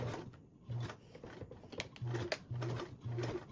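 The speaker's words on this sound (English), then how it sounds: "start my needle on the up, lift your foot so I can turn my panel, and then start sewing down" Sewing machine stitching a duffle bag panel in short repeated bursts with brief pauses between runs, close and fairly quiet, with small handling clicks and rustles of fabric.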